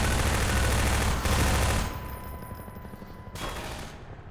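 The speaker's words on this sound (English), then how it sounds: "Let's throw a grenade up there." Heavy gunfire and an explosion in Half-Life 2 combat, a loud dense burst of rapid shots that cuts off sharply, then quieter scattered firing and rumble.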